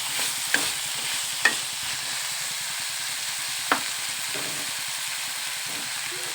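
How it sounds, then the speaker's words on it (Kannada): A spiced mixture for bread toast fries in a pan with a steady, bright sizzle, broken by a few sharp clicks of a spoon against the pan as it is stirred. "ಈ ಥರ ಎಲ್ಲ ಉಪ್ಪು ಎಲ್ಲ ಪೂರ್ತಿ ಕರಗಂಗೆ ಹಿಂಗೆ ಫ್ರೈ ಮಾಡ್ಕೊತಾನೆ ಇರಬೇಕು"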